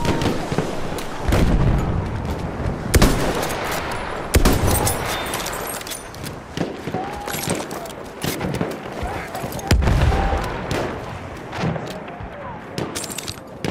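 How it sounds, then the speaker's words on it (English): Grenade explosion in the Battlefield 1 video game on the St. Quentin Scar map, a heavy boom among constant rifle and machine-gun fire, with several loud blasts spread through a busy battlefield and shouted voices over the din. "Grenade out!"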